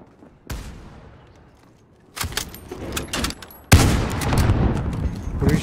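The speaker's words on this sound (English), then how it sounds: "Who are you shooting at?" Gunfire in the video game Warzone: a single distant shot, then clustered bursts of loud automatic fire growing heavier toward the end, with little talk.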